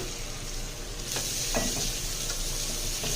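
Onions frying in a pan with bay leaf, cinnamon, cardamom, cloves, mace and garam masala spices, a steady close sizzle with a few light stirring scrapes and clicks.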